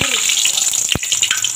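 Hot oil sizzles and crackles steadily close up as ground spice paste fries, with a brief thud midway through the frying.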